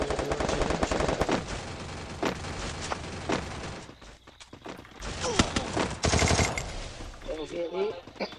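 Rapid automatic gunfire rattles through a Free Fire video game match in dense bursts. A brief quieter gap comes near the middle, then more volleys follow, loud and close.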